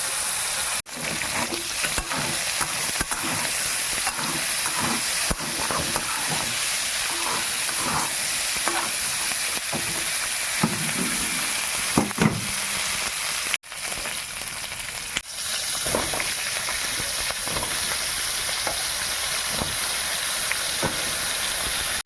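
Eggplant frying with turmeric in a pan of hot oil gives a continuous loud sizzle and hiss, with occasional clinks and stirring noises.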